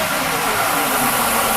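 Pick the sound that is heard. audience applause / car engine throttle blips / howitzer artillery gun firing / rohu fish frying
car engine throttle blips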